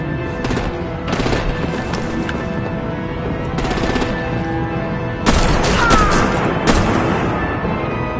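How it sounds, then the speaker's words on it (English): Sustained video-game gunfire on PS4, with rapid machine-gun bursts and heavy artillery booms layered over a dense battle soundtrack, growing louder and harsher toward the end. "Break out the artillery and disable their vehicles!"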